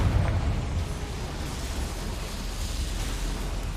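A Confringo fire-blast spell bursts in the Hogwarts Legacy video game with a muffled explosive pop at the start, trailing into a steady, moderately quiet rumble with no voices.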